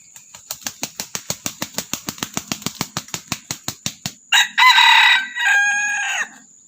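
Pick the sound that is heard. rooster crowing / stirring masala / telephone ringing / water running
rooster crowing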